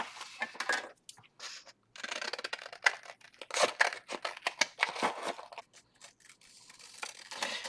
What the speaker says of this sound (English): And then we'll just give it a trim.